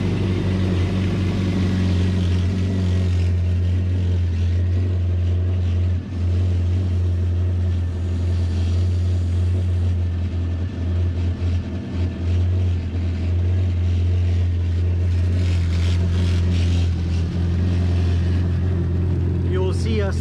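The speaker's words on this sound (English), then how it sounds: "We'll turn on the engine first, and then we will turn on the fresh water to the engine" A Yamaha Waverunner GP1800R personal watercraft engine, 1.8 L, idles steadily and loudly throughout with a constant low drone while being flushed with fresh water during winterizing.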